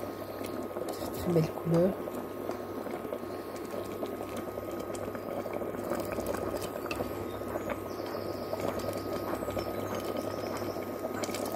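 A mixed African broth simmers gently in a pot, giving a faint, steady bubbling throughout, with a person speaking briefly near the start.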